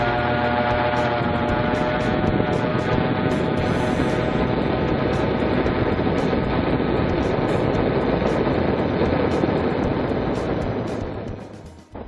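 A Merlin Lite Part 103 ultralight aircraft drones steadily in flight, its engine giving a loud continuous buzzing hum with strong harmonic tones that holds for the whole stretch and then fades sharply at the end, with no voices.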